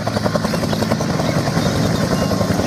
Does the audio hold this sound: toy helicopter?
yes